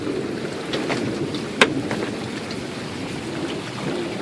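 Huge hailstones, some bigger than golf balls, fall in a hailstorm at Buffalo Thunder, making a steady dense pattering with one sharp, loud impact early on.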